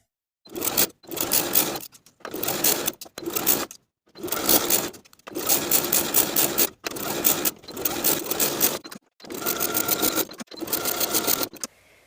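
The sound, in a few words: sewing machine edge stitching a shirt jacket placket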